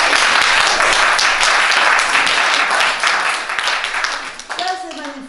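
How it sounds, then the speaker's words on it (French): Loud, dense applause from a comedy or talk audience fills the hall for about five seconds, thinning toward the end as a voice begins speaking over the last of the clapping. "Vous pouvez m'applaudir."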